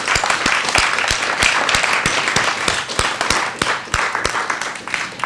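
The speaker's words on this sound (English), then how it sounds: "if we could do a round of applause for everyone who's appeared so far." An audience at a performance rally claps for the performers: loud, dense applause with many sharp, rhythmic claps close by, holding steady for several seconds with no talk.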